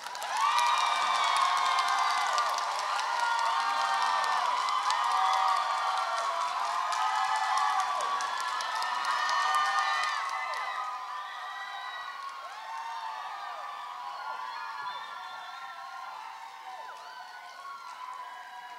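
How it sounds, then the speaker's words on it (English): Audience at a South-East Asia peace forum welcomes a speaker with sustained applause, whoops and cheering, a loud crowd roar that holds for about ten seconds and then eases into softer clapping and scattered shouts. "Let's welcome him up with a big round of applause."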